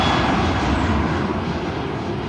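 A steady, loud roar of an airplane engine at Karipur airport fills the scene, a broad continuous rumble with no voices over it.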